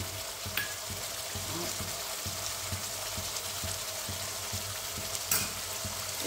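Spices with a quarter spoon of Kashmiri chili powder fry in a pan for a pea and potato ghugni, giving a steady, close, fairly soft sizzle with a few light stirring scrapes and no voices.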